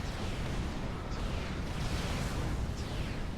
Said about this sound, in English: Nice little bombing run coming in from TA as well.